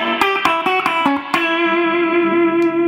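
Electric guitar playing quick raked muted strums leading into a bent note that rings out and sustains, close and loud with no talk.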